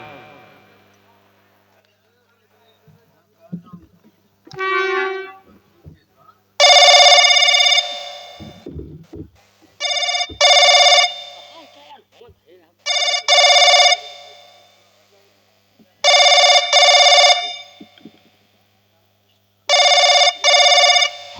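A telephone rings in repeated electronic bursts, about five rings in a regular pattern, loud and close, after a few brief sounds at the start.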